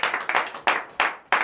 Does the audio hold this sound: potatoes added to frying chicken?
no